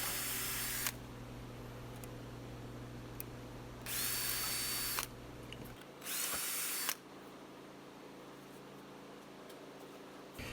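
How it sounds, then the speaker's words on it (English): Power drill boring out a hole with successively larger bits during a 1964 Buick Wildcat underhood electrical refurbishment; two loud bursts of high whining drilling stand out over a steady background hum, with quieter pauses between. "I'm going through a successive size of drill bits to make the hole bigger and bigger."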